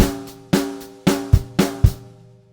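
Drum kit playing a Motown groove at a Grade 4 rock and pop level. Steady quarter-note hits ring out with punchy bass drum accents between them, close and loud, then decay away with no voices.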